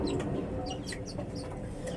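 A chicken clucks softly in short, scattered bursts over a steady low background hum, a few faint calls spread across the moment.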